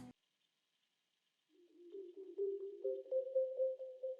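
A processed sample built in FL Studio with Valhalla Freak Echo, a chorus preset at half mix and an EQ cutting lows: a short click, silence, then a soft rising tonal phrase swelling into a steady, pulsing sustained note.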